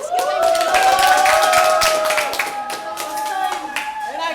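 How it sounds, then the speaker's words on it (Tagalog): Several people clap together on cue, crisp rapid hand claps over music with a sustained melody, while voices talk over it. "O, palakpak! Palakpak!"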